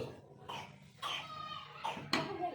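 Several short coughs, close by and fairly quiet, arriving in irregular bursts with brief pauses between them.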